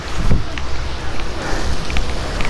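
Light snow mixed with thin rain falls outdoors in Istanbul in bitter cold, giving a steady soft hiss with gusty wind noise buffeting the microphone throughout.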